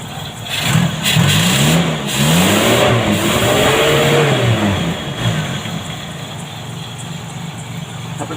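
A car engine converted from gasoline to gas (BBG), started cold after a night unused and with a leaking exhaust, revs up and down several times in rising and falling sweeps, loud and close, then settles toward a steady idle.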